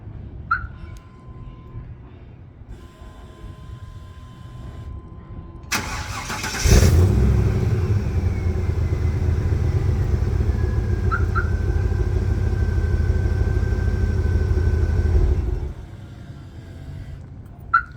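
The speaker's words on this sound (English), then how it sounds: "let's do remote start one more time just because it sounds so good" A 2000 Chevrolet K3500 pickup truck fires up by remote start with a sudden loud burst, then settles into a steady, close, rumbling idle for several seconds before shutting off, with no talking.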